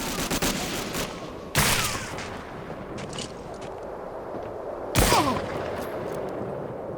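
Gunfire from the video game Medal of Honor Warchest rattles continuously under a noisy battle bed, with two sharp, loud blasts standing out.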